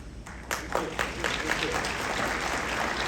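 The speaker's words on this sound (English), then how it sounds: "Can we give them a big round of applause again?" Conference audience at a Rotary zone institute in a resort hall bursts into applause, a dense wash of clapping that swells quickly and holds steady for a few seconds, with a voice briefly audible at the start.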